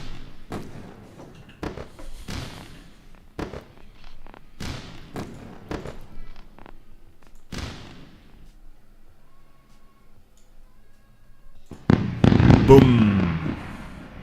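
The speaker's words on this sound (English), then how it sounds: "Huge round of fireworks." A celebratory fireworks sound effect marks a trade during live futures day trading: a string of sharp, separate bangs and thumps at uneven intervals, then a louder crackling burst near the end.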